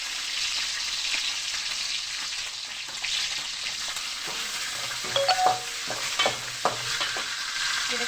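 Steady sizzling of green chillies and ginger frying in hot oil, with a few clinks and scrapes of stirring partway through.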